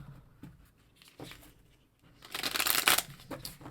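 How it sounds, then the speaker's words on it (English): Tarot cards being shuffled by hand for a weekly reading, soft taps and riffles at first, then a loud, close riffling burst near the end. "actually feel I'm going to shuffle them like this."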